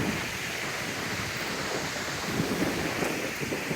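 Ocean waves wash onto a beach at night, a dense, steady roar of surf mixed with wind rumble on the microphone, continuous and fairly loud with no voices.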